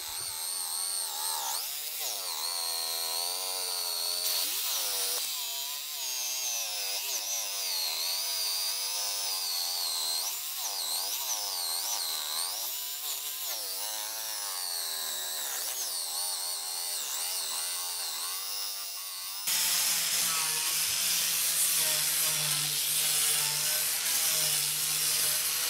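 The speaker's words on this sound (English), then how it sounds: "And now I am already outside with my cheap, dull and weak jigsaw, trying to cut into the real oak." A cheap, dull, weak jigsaw cuts into a solid oak board outdoors, running in a steady, loud, wavering whine. Near the end the pitch drops into a rougher, lower buzz as the blade works the hardwood. No one speaks.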